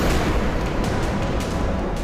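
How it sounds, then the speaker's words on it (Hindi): Explosions in Kyiv during a Russian attack: dense, continuous booming and rumbling with sharper blasts breaking through, loud and sustained, no voices. "धमाके हैं"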